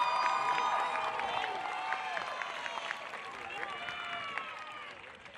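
A crowd applauds and cheers at a 2019 graduation ceremony as a broad, steady roar of clapping with excited voices and whoops mixed in. It fades slightly toward the end.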